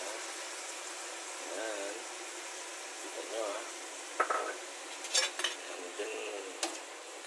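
Kangkong adobo simmers and sizzles in a pan after a splash of soy sauce, a soft steady fry with occasional stirring and light scraping of a utensil against the pan.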